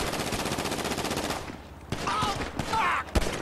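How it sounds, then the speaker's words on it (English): Rapid automatic gunfire from GTA V rattles in a dense burst as a canister is shot up, then breaks off into scattered shots, a sharp bang and an explosive crack near the end. "Shoot up that canister."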